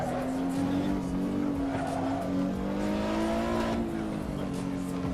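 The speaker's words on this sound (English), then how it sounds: "Because the engine is loud." Engine of a fast production car lapping the Nürburgring Nordschleife in Assetto Corsa, a loud steady drone with shifting pitch, rising and falling through gears, with possible tire squeal and faint voices mixed underneath.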